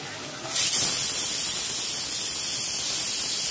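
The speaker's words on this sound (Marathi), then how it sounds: "कांदा जो बारीक चिरून घेतलेला आहे तो फोडणीत टाकून घ्यायचा" After a quiet start, a loud, steady hiss erupts as chopped onion hits hot oil and keeps sizzling evenly.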